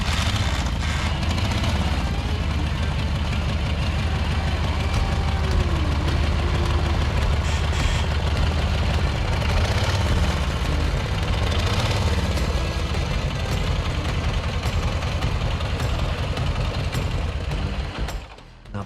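A vintage Harley motorcycle engine idles after being kick started, a loud, steady, lumpy low rumble with rapid rhythmic firing that continues close by throughout before dropping off at the very end.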